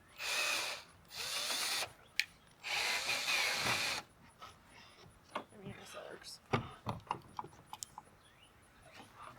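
A power drill backing screws out of floor boards, two loud whirring bursts of a couple of seconds each, then scattered clicks, taps and handling knocks nearby.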